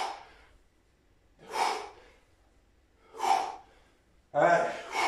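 Heavy, forceful breaths come in four separate bursts, each a loud gasping exhale roughly every second and a half, during a full-body weight-training workout.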